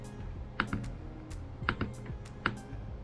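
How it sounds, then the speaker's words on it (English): A replacement trackpad on a MacBook Pro A1398 clicks crisply three times, close to the microphone, with short sharp taps spaced roughly a second apart over a quiet background. "It sounds like a new trackpad."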